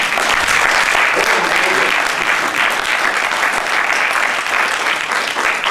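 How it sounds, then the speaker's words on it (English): Steady, loud audience applause fills the whole stretch, a dense wash of clapping from a large crowd at a Public Enemy event, with no voices rising above it. "Give them a round of applause."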